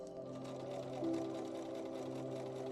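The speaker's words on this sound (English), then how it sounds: "In the back room was a work table and a sewing machine where at night they always worked." A sewing machine running continuously in a back-room workshop, its steady whirring hum with faint rhythmic needle clatter, fairly quiet and heard alone without speech.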